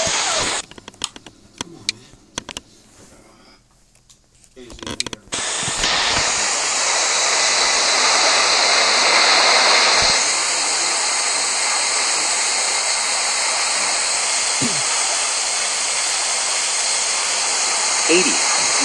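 A jet airliner in Real Flight Simulator spooling up for takeoff: after a few seconds of scattered, quieter sounds, a loud, steady engine roar with a hissing edge sets in and holds to the end.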